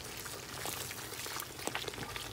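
Water is poured into a pot of fried ingredients while cooking fish, a faint continuous splashing, bubbling liquid sound with light sizzle throughout.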